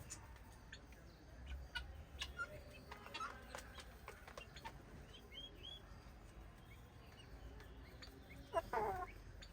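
A hen clucks softly and repeatedly while eating mealworms, amid faint outdoor bird chirps, with a slightly louder burst of clucking near the end.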